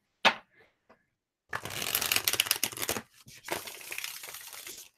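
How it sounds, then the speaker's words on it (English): A tarot deck being shuffled by hand, with a short riffle at the start, then a long dense burst of flapping and sliding cards and a second stretch after a brief pause, fairly close and with no talk. "Shuffling them a little more, letting the quick sort really soak in and move around on the deck is helpful."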